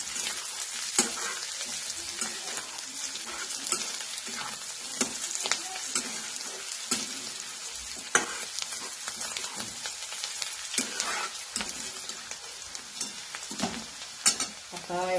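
Shravan ghevada green beans roast in a pan with chopped coriander, giving a steady close sizzle broken by frequent scraping stirs, with no voices.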